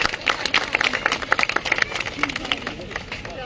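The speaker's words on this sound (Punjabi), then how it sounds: "ਤਾੜੀਆਂ ਲਗਾ ਦਿਓ ਸਾਰੇ ਬੱਚੇ" Crowd of children clapping at a school sports opening ceremony in Punjab, held at GHS Khassan in Nadala block: steady, dense patter of many hands close by, with voices mixed in.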